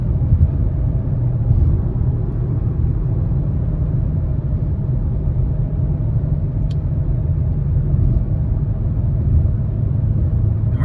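Audi RS6 Avant in dynamic mode getting up to speed, heard from inside the cabin as a steady, loud low engine and road rumble with no clear rev changes.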